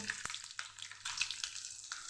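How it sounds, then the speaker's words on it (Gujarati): Cumin seeds crackle in hot oil in a pan, a faint close-up fizzing with scattered sharp pops and crackles throughout, no voices. "જીરુંને આપણે સરસ ફૂટવા દેશું"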